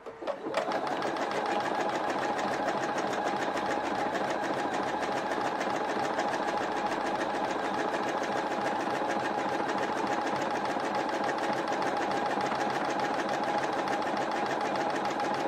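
A sewing machine works a satin stitch with a dense, steady mechanical whir and rapid needle chatter. It starts with a short click and then runs without a break at an even pace, close up.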